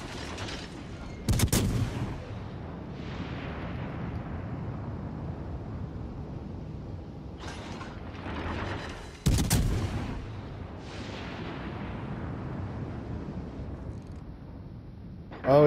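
Enemy warship guns in World of Warships Legends boom in two heavy, loud blasts several seconds apart, each followed by a long rumbling decay, with lighter distant firing and a low steady background between.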